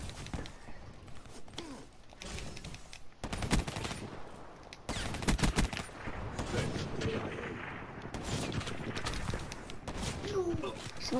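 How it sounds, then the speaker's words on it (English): Gunfire in the first-person shooter Black Ops 3 during a free-for-all match, with loud repeated shot bursts and heavy impacts through the clip, and a player talking over the battle noise. "Someone's freaking shooting me"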